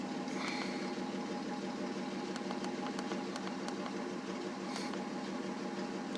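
A 1997 Dodge Dakota pickup with an intermittent loss of power idles steadily as it warms up, a constant engine drone with faint ticking and clicking under it.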